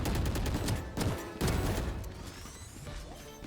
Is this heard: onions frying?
no